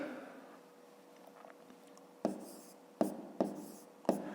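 Numbers are hand-written while working a fifth-grade math exercise, heard as faint soft scratches followed by four distinct quick taps of pen or chalk on the writing surface in a quiet room.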